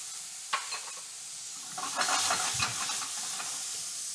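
Tomatoes drop into a hot pan already holding capers and olives, bursting into a loud sizzle and steamy hiss after a few clinks and stirring scrapes, continuing close and steady with no talking.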